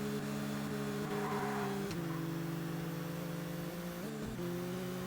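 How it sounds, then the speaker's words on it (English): Race car engine in ToCA Race Driver 2, a steady droning tone that dips and shifts pitch twice as the car launches and changes gear, loud and continuous with no talk. "See, that is so stupid where the car just launches."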